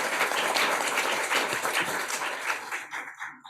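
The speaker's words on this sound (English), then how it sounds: "So please everyone give a big round of applause to welcome Harriet Wistrich." Audience applause welcoming a speaker at a domestic abuse in housing conference, a full hall clapping steadily, then tapering off into a few last claps and quiet.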